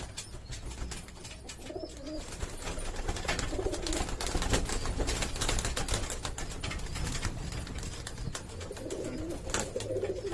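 Pigeons in a loft give soft, repeated throaty coos over a continuous bed of rustling, pecking and clicking, with cooing swelling at the start and again near the end.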